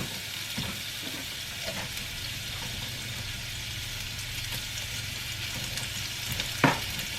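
Chopped onions and small serrano peppers sizzle steadily in a pan with a continuous, even frying hiss and a few faint stirring clicks, no voices.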